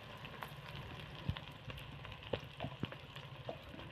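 Onions and chili powder frying in a pan, a faint, close sizzle with scattered pops and light scraping taps, no voices.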